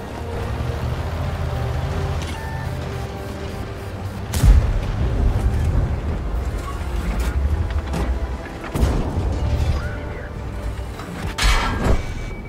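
Several heavy cannon booms from a French Bat.-Châtillon 25 t AP medium tank in a video game, spaced a few seconds apart, with a low rumbling engine drone throughout.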